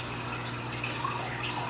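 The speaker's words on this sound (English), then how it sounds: "I can get some of it dripping off of his shell" Purple treatment solution trickles and drips off a snapping turtle's shell during a bath, a steady wet patter of small drops over a constant background hum.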